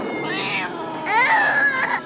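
Cats meow in a film scene, with two drawn-out, wavering yowls at moderate loudness against a faint steady background.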